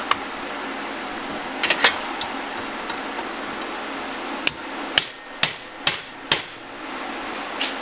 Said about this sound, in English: these bolts are in here real tight, so I'm going to use my impact driver to just